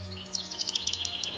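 Robins chirp in a laurel forest, a rapid series of bright, high tweets close by over a soft steady background hum.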